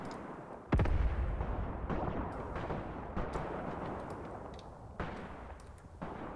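An artillery gun in the Graviteam Tactics war game fires one heavy booming shot, followed by scattered distant blasts and rumbling battlefield noise over several seconds.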